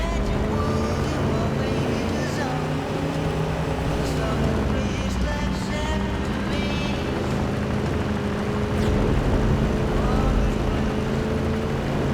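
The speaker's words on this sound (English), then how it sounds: "This truck isn't slowing down." A heavily armored truck barrels through streets in a video game, its engine a loud, steady drone throughout with layered mechanical tones and a busy background mix, no spoken voices over it.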